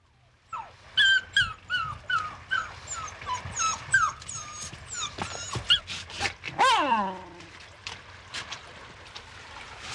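A dog howling and whimpering at a mill house on an old estate, a run of rising yelps and whines building into a long drawn-out howl, close and alone before fading into quiet.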